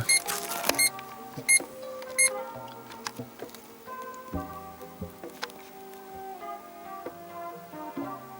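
A newly fitted car parking sensor beeps during a test, with a quick run of sharp, high beeps early on that recurs at intervals over a steady tonal hum and small clicks, close by and with no talking.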